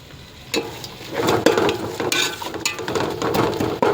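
Veg biryani vegetables sautéing in a pan, a spatula scraping and stirring in irregular strokes over a soft background sizzle, close and moderately loud, with no talking.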